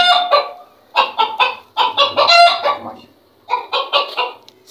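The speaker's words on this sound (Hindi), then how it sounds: "ये इसके साथ एक और मुर्गी है, पहली बीवी है इसकी" Hens clucking in a home cage, close and loud, in several bursts of quick repeated clucks with short pauses between groups and no talking.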